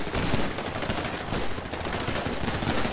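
Dense, continuous video game gunfire, a rattling barrage of machine-gun shots layered into a steady loud roar without pauses.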